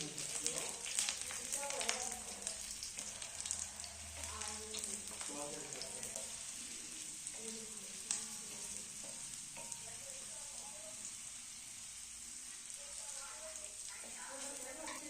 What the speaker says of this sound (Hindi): कुछ कलियां यहाँ लहसुन की ली हैं और लहसुन को थोड़ा सुनहरा होने तक भून लेते हैं।